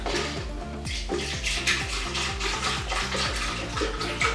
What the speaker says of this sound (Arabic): أول شي رح نحط حليب